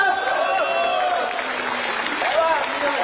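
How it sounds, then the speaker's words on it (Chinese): Theatre audience at a Chinese crosstalk comedy show clapping, a steady spread of applause mixed with voices and murmurs of the crowd. "鼓鼓掌，让他说上来，好不好？"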